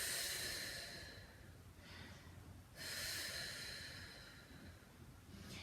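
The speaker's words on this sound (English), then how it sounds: "Nice deep breaths." Slow, deep breaths during a Pilates workout with weights, two long airy exhales rising and fading, faint and close with no talking.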